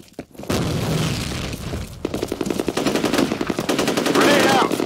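Grenade blast followed by sustained automatic gunfire in the shooter game F.E.A.R., a sharp boom then rapid rattling bursts that grow denser and louder, with brief voices in the mix.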